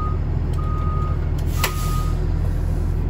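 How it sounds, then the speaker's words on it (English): Repeated electronic reversing beeps from a school bus, steady and evenly spaced, over a loud, constant diesel engine rumble. "he has to be able to hear the audible alarm for backing up, as you can hear that."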